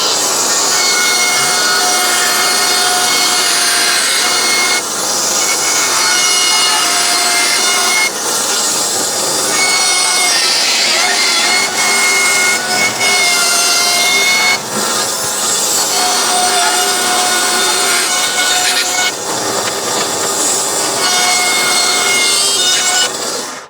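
Bandsaw cuts a rough banana shape out of wood, a loud continuous whining buzz with steady tones that dips briefly between passes, carrying on for over twenty seconds with no talking.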